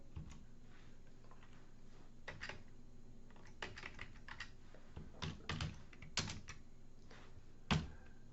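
Code being typed on a computer keyboard, quiet scattered keystrokes arriving in irregular bursts and short runs with pauses between, a slightly louder clack near the end, no voices.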